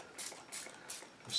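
A handheld spray bottle mists onto a handmade model tree in four short, soft hissing bursts, evenly spaced and close.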